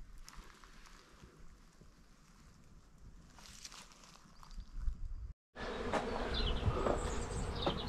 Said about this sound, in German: das sind mega, mega viele Mücken oder Wespen